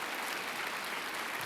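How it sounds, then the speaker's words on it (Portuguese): Congregation applauding in a church service after a preacher calls for praise to God, a dense, steady wash of clapping hands lasting the whole moment without pause. "Nosso Deus merece um aplauso por isso"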